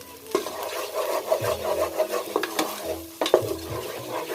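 Food frying in a pan on a stove, with a steady sizzle under repeated scraping strokes of a utensil stirring it, close and continuous.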